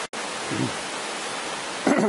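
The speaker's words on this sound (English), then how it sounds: "And you can see the water dancing its way down." Water flows steadily downstream past a mill complex, a continuous broadband rush heard from above the stream, loud and unbroken, with a couple of brief murmuring voice-like traces.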